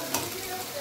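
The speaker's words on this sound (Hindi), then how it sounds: "ये बन दाल को तड़का लग रहा है" Dal tadka for a Himachali dish sizzles hard in a pan, with a loud, dense, continuous frying hiss and a faint stirring clink near the start.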